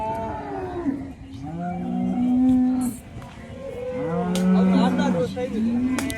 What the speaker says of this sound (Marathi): एक नंबर क्वालिटीची वासरी गणेश पाटील यांच्याकडं